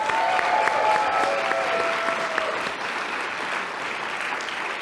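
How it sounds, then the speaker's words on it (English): Loud, sustained audience applause in a hall after a high school student drumline performance at a Hillsboro State of the City event, dense clapping that slowly tapers, with a faint tone ringing early on. "if we could give one more big round of applause for the Hillsboro High School student drumline"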